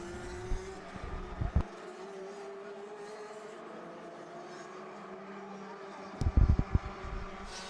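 Racing karts at the Champions Winter Trophy finals drone around the track, a steady faint engine hum with brief bursts of low thumps near the start and end.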